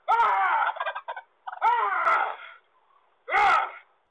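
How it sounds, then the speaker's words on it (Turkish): A wild turkey gobbles in three loud, close bursts, two long rattling calls followed by a short final gobble, while it attacks a mail carrier outdoors. "Posta dağıtmaya çıktığı yaban hindisine hedef oldu."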